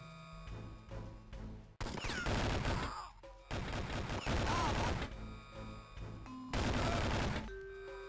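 Dense, repeated bursts of gunfire and crashing impacts in the 2003 Game Boy Advance game 007: Nightfire, loud and continuous across several blocks, with brief quieter gaps between volleys and no talking.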